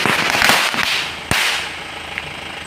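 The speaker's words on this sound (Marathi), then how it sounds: "फटाके फोडतो" Firecrackers going off during a Ganpati immersion celebration: a sharp loud burst near the start, then a single very loud crack, fading into lingering echo and ambient noise.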